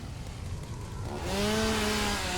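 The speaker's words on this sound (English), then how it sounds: "But if I have the chainsaw" A chainsaw in the video game Satisfactory revs up midway and then holds a loud, steady buzzing drone while clearing plants, alone without speech, after a quieter idle start.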